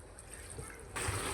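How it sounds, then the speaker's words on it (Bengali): Water poured into a pan of sautéed taro root for a Bengali rohu fish curry, a short trickling splash that swells louder near the end, close by. "সামান্য পানি দিয়ে দেব সিদ্ধ হওয়ার জন্য"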